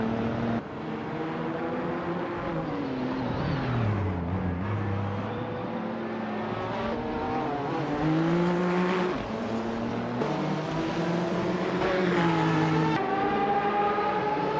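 Race cars in a racing video game with bot drivers, engines whining and shifting pitch through the revs as they accelerate and hold a steady pace, loud and continuous.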